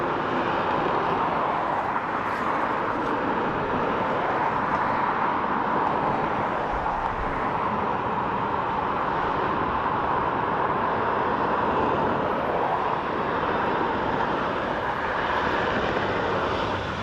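A Ryanair aircraft arriving from Birmingham at Dublin Airport produces a continuous broad engine roar that holds steady and fairly loud, with no talk over it.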